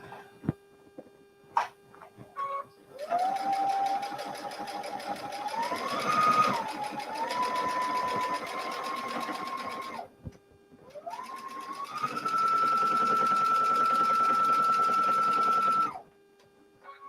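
A sewing machine stitches a quilt seam in bursts, running forward, briefly reversing to backstitch, then forward again, a close, steady whirring that stops and restarts between short pauses.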